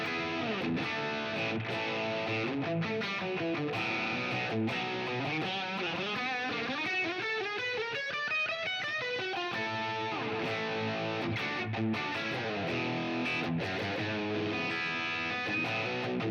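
Heavily distorted electric guitar fitted with Suhr Peach Pro pickups, played through a high-gain amp channel: a continuous, loud stretch of chugging riffs and sustained chords with sweeping lead runs, no talking.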